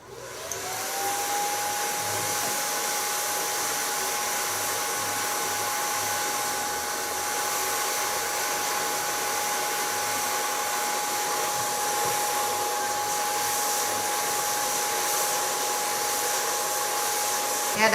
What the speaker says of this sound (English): I'm going to blow dry it with a light brush